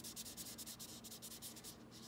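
Steady rubbing of newspaper pressed onto wet acrylic paint, a soft, close scratchy swish repeating in quick, even strokes with no voices.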